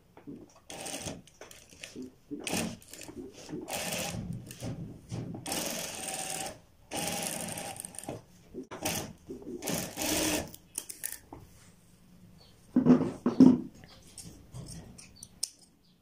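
Sewing machine stitching fabric for a child's Afghani kurta, attaching the band at the base of the strip, running in repeated bursts of rapid mechanical whirring with short pauses, fairly close, plus a brief louder burst near the end.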